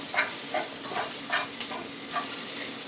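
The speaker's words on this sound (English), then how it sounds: "Next, you put in some vegetable oil and keep on stirring them." Dumplings fry in vegetable oil with a steady close sizzle, and a utensil stirs them in soft, evenly spaced scrapes about every half second. No one speaks.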